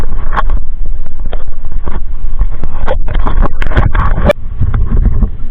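A small fishing boat's engine runs on the open sea at high tide, with heavy wind buffeting the microphone and water splashing over a loud, continuous rumble and no speech.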